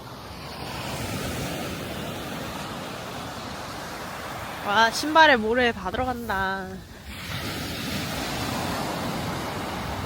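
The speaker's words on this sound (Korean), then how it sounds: "파도 가까이에서 파도 소리는 들어봐야 하지 않겠습니까?" Ocean waves wash onto a beach in Busan near Gwangan Bridge on an overcast day, a steady broadband surf roar with wind noise throughout, while a person briefly speaks over it partway through.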